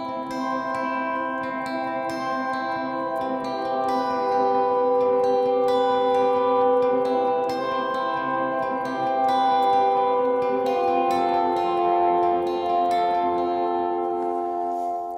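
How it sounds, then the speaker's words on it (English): Electric guitar picking a lead part for a worship song, soaked in delay and heavy reverb, with sustained ringing notes and steady plucked attacks washing together, played alone without talk. "we're just playing a picking part that sounds like this"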